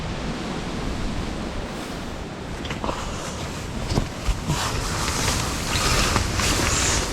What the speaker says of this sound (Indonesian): sangat berangin.